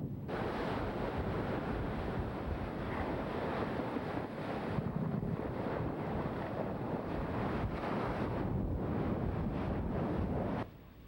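Heavy ocean surf splashes against a hot lava flow along the Kilauea coast, a continuous roaring wash with wind buffeting the microphone, and the rumble drops away abruptly near the end.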